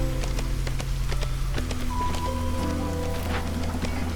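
Drizzling rain in the video game Against the Storm, heard as a steady, soft patter of droplets with scattered taps, alongside sustained game tones.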